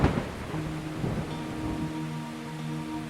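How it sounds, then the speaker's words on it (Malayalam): Rain falls steadily as a soft, even hiss while thunder rumbles low near the start, a short stormy sound effect with no voices. "അങ്ങനെ മഴക്കാലം വന്നെത്തി."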